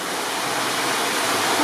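Cold water pours steadily from a spa shower, a dense even hiss of falling water, loud and close, with no voices.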